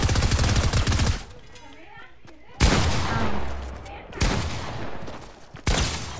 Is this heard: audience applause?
no